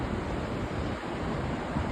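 Floodwater rushes past on the way to Devmogra, making a steady, dense, close roar with no voices.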